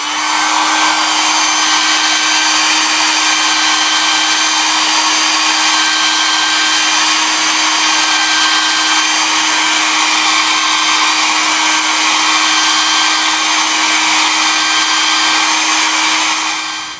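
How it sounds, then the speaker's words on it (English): A hair dryer on its high setting, used to heat the speaker area of an iPhone 4S, gives a steady, loud, continuous whirring blow with a constant hum that never changes for the whole stretch. "So, I have the hairdryer, see? Turns on and stuff."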